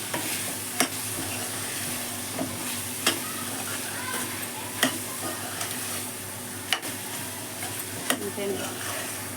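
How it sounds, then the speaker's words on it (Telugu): Gongura mutton curry with fenugreek leaves, onions and spices being stirred in a pan, a steady low sizzle broken by regular scraping knocks of the spoon, close and moderately loud with no talking. "మంచిగా దీన్ని కలిపేసి"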